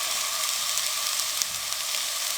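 Sliced onions frying in a pan for aloo Manchurian give off a steady, even sizzle with faint crackles and occasional small pops, and no voices over it.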